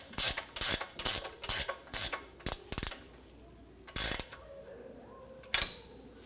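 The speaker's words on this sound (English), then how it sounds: "Just tighten this down. It's just going to prevent the stud from spinning while you're tightening down the nut." A ratchet clicks in quick, uneven bursts while the outer tie rod stud nut is tightened on a 2011-15 Kia Sorento, then a few isolated clicks follow, close and clear against a quiet background.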